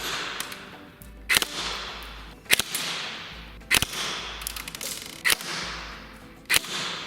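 A G&G Firehawk high-cycle airsoft gun fires 0.25 g bio BBs through a chronograph, giving several sharp, loud single cracks at irregular intervals over a steady mechanical whir, with no talking.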